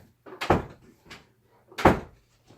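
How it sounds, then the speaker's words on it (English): A screen door bangs and rattles in two loud, close bursts, opening and then slapping shut, with quieter knocks and clatter between them. "Sorry about all that noise and knocking on the door."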